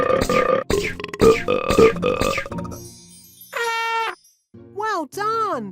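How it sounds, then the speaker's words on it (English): Cartoon burps bursting out of a box in a Ben & Holly's Little Kingdom video game: a child-like voice chatters first, then a run of short, loud, wobbling synthetic burp tones close up, with brief gaps between them. "That's a box of burps! Quickly touch the burps to burst them before too many escape."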